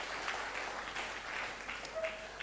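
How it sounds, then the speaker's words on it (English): An audience at an agriculture and fisheries event applauds farmers and fishers, a steady wash of clapping from a crowd heard at moderate distance, no voices. "So can we have a round of applause for our farmers and our fishers who are out there working for us?"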